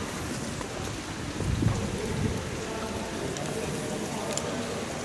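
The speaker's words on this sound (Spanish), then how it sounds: "Está comenzando a llover, ojalá podamos hacer más tomas." Rain begins to fall outdoors in Italy as a steady broadband patter, with a brief louder swell partway through and faint distant rumbling.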